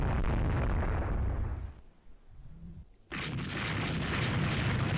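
Naval gunfire in the game Rule the Waves 3 with an 1890s German fleet: a heavy booming blast fades out, a brief lull follows, then another loud explosion roars in and rumbles on.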